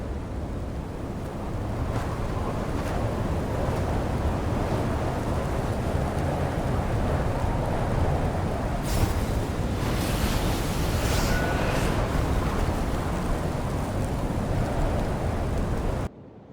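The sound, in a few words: stormy wind howling in Genshin Impact video game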